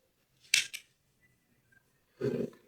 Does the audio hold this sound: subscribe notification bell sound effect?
no